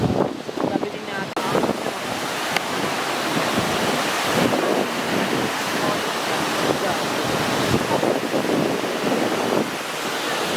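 Strong storm waves and gusting wind from Typhoon Uwan roar continuously, loud and close, with wind buffeting the microphone and no clear break in the noise.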